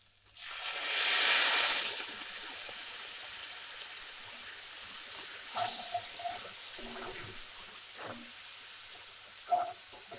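Water splashes into a hot pan of spices with turmeric, a loud sizzling burst early that fades into softer bubbling and a few faint clinks of stirring.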